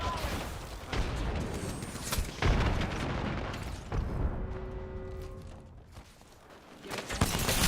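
A frag grenade explodes in Apex Legends on the World's Edge map, a loud booming blast with rumbling debris that rises out of ongoing gunfire and game noise, then fades into quieter tones.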